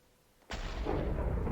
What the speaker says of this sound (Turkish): galiba patladık